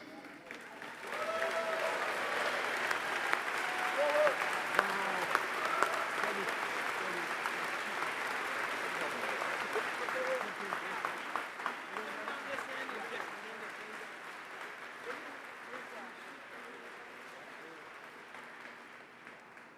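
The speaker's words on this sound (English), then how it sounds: "give this special group of commanders a big round of applause" Audience at a VFW national convention awards session claps in sustained applause lasting many seconds, dense and steady before gradually thinning, with a few voices in the hall.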